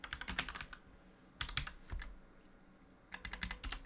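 Someone types on a computer keyboard while entering code, quiet close key clicks in three short bursts separated by pauses, with no talk.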